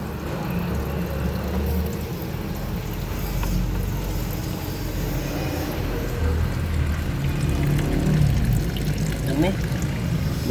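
Coolant draining out of a Honda City car during heavy maintenance, a steady watery pouring and trickling close by with low background rumble throughout.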